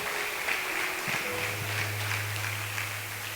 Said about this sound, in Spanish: ¿Cuánto le dan un aplauso fuerte a Dios en esta hora?